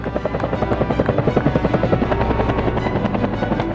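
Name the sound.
army attack helicopter in flight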